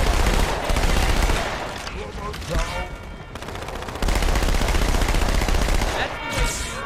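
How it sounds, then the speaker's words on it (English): An SMG in the Halo Master Chief Collection video game fires long rapid automatic bursts, loud and dense, with brief gaps between volleys and other game sounds layered underneath. "what's cool about the SMG? It doesn't move upwards in the third person."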